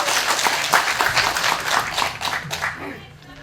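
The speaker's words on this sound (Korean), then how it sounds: "인정하시고 박수 한번 보내주십시오" Applause from the audience at a candidate policy debate for a National Assembly seat in Gwanak, a steady patter of many hands clapping that fades toward the end, with voices mixed in.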